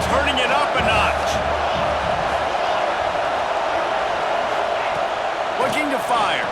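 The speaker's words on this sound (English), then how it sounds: "this crowd is turning it up a notch" A video-game stadium crowd in College Football 26 roars steadily and loudly throughout, a dense wash of cheering with play-by-play commentary talking over it.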